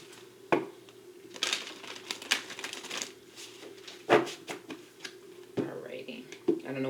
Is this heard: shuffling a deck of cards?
yes